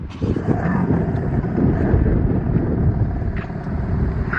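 A BMW M3 engine idles with a steady low rumble, heard up close with some wind buffeting over the microphone and no clear rev or start burst.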